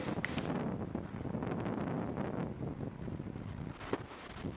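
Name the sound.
SpaceX Falcon 9 rocket launch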